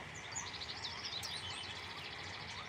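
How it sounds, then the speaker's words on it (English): Faint birds chirp and twitter in the distance, a scatter of high, quick calls over a soft, steady outdoor hiss. "a lot of funny sounding birds"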